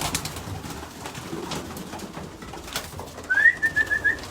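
Racing pigeons in a loft give a short run of soft, close coos near the end, over a low hum of background noise.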